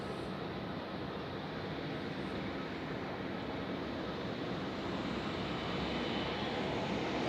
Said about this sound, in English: And we have another pushback, which is an A220 of Swiss on its way to Dublin.